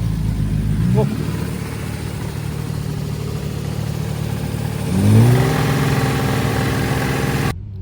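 A car engine cranks and catches near the start, then idles roughly before revving up sharply around five seconds and holding a raised, droning note that cuts off abruptly near the end; no speech is audible.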